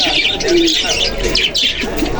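Oman pigeons coo in a pigeon shop at Khulna Borobajar, a brief low coo mixed with chirps amid loud, busy shop ambience close to the microphone.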